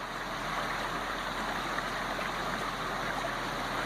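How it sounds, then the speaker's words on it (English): A creek in San Bernardino National Forest flows steadily at a vehicle crossing, a constant close rushing wash of water that fills the whole stretch with no voices. "Pretty good little creek crossing here."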